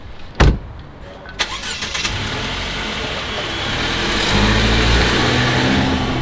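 Car engine starting with a few short bursts, then a steady running rumble that grows louder as the car pulls away, heard close up.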